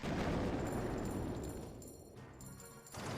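A mortar defence being destroyed in Clash of Clans at town hall 10, a loud, dense explosive crash that fills the first half-second and then rumbles and fades into softer crackling debris.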